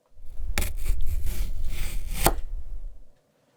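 A knife chops through a vegetable on a board in one close, steady stretch of rough scraping strokes lasting about three seconds, with a sharper cut near the end.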